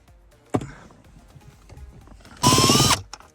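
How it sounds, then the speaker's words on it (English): A sharp clunk, then a short loud burst of a power drill with a T25 bit whirring for about half a second, close by, while replacing a Mercedes-Benz G-Class steering wheel, before quiet returns. "And we got a drill."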